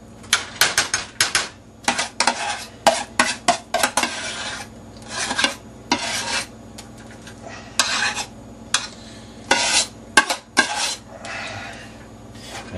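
Dishes, pots and utensils clatter and clink as they are gathered up and set in a kitchen sink, with a quick irregular run of close, sharp knocks and scrapes and no talking.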